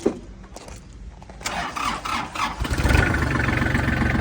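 A Kubota GL 221 tractor engine cranks and catches, then settles into a steady, close idle with a low rumble.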